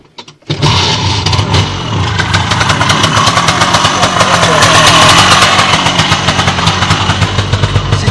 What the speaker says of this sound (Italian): mettiamo in moto. Vediamo l'accensione.